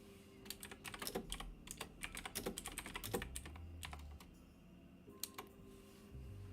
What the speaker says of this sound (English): That's good ASMR on the keyboard.